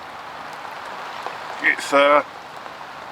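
Rain patters steadily and softly on a fishing bivvy at a carp fishery in winter, a constant hiss heard from inside, with someone speaking briefly over it.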